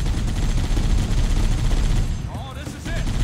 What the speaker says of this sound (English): Just eat Gatling guns all day.